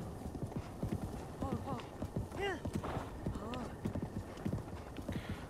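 Horse hooves clip-clop steadily in The Legend of Zelda: Breath of the Wild, with a horse whinnying partway through, all under continuous talking.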